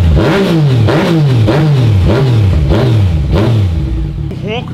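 A Yamaha MT-09 motorcycle engine revs loudly and up close, about six sharp throttle blips in a steady rhythm that settle toward idle at the end.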